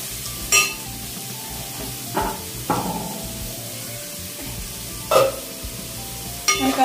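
Salted rice stirred in a pot for chicken biryani, a spoon scraping and clinking against the pot in several distinct strokes over a steady low sizzle and bubbling.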